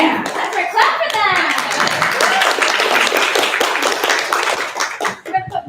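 A meeting audience of a seniors' advocacy group claps for people called forward, with a mix of individual hand claps and applause under ongoing talk and chatter.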